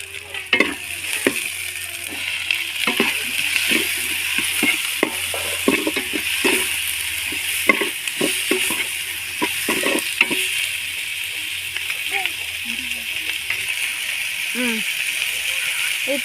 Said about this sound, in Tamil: எண்ணெய் ஊற்றி கடுகு, கடலப்பருப்பு, உளுத்தம்பருப்புலாம் போட்டு வெங்காயம், கருவேப்பிலை, வரமிளகா, தக்காளி எல்லாம் போடணுங்க.